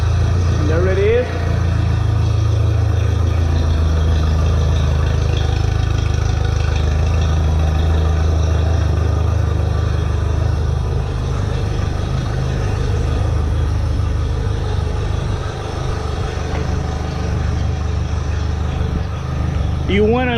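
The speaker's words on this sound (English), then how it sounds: "You want to let the motor run for a good 5-10 minutes" The motor of a coastguard safety boat idles steadily with a continuous low rumble, while someone talks briefly near the start.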